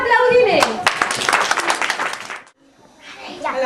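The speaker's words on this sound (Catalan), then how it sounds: "Ale, un aplaudiment." Children applauding in a school classroom during an intercultural week, a burst of quick, dense clapping close by that stops abruptly, followed by a brief lull and then children's voices.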